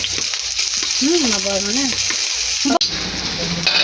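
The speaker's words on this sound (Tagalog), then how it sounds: "nagpapainit na po ng mantika si ate sa kawali. Lagay na po yung sibuyas" Onions fry in hot oil in a pan (kawali) for pinakbet, giving a steady, close sizzle throughout while a voice speaks briefly over it, with a sharp click near the end.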